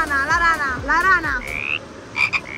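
A person imitates a frog with a voice, making a few rhythmic, warbling croaks in quick succession, loud and close, with short pauses and squeaky vocal bits near the end.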